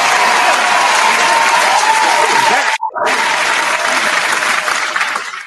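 Loud, sustained applause from a crowd fills the whole stretch, dropping out briefly near the middle before resuming at full strength; no voices are heard.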